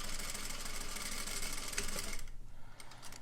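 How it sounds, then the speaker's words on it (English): A sewing machine runs steadily while stitching a seam with a back stitch, a continuous close mechanical whir that drops off briefly near the end before resuming. "and then we'll sew the seam. Get ready to back stitch."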